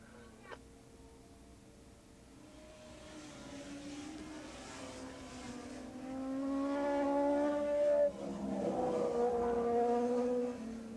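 Racing motorcycles in the 750 / Open Modified Production class at Willow Springs Raceway on the final lap, engines droning and rising in pitch as they pass, growing louder toward the end, with a commentator talking over them.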